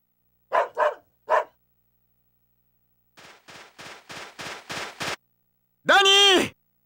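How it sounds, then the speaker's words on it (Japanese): Danny, a hunting dog in the PS2 game JoJo's Bizarre Adventure: Phantom Blood, barks in a quick burst of three close, loud barks. After a pause comes a run of seven softer barks, then a long, drawn-out howl-like yelp. "ダニーってんだ。 僕の愛犬でね、利口な猟犬なんだ。"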